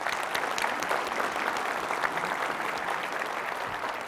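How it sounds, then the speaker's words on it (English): Steady, dense applause from a crowd at a municipal State of Midland address, honouring the finance director; continuous clapping holds at an even level throughout with no voices over it. "Let's give her a round of applause."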